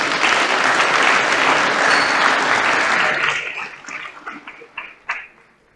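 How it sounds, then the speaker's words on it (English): A roundtable panel audience claps for their chair in a full, loud burst that holds for about three seconds and then thins out to a few scattered claps before fading. "So should we give our chair a round of applause?"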